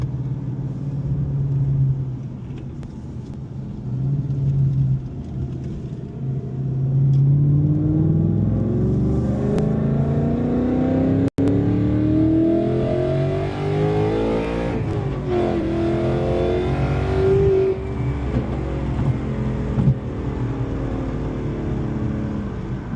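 A supercharged 2024 Ford Mustang GT engine revs and climbs through its gears, the pitch rising repeatedly as it accelerates hard, loud and close from inside the car.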